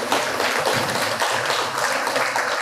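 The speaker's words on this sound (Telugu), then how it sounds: "ఒక్కసారి బిగ్గరగా చప్పట్లు కొడదాం." An audience at Chintapalli Sai Baba Temple clapping loudly, a dense, continuous wash of applause from many hands, close and steady throughout.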